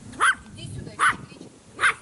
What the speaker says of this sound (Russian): Ты чего тут гавкаешь-то на меня?